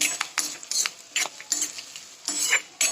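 Roasting for a chutney in a pan, with close, quick scraping and stirring strokes over a light sizzle, repeating in short irregular bursts.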